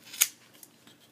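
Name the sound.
scissors cutting hair off Dyson vacuum brush bristles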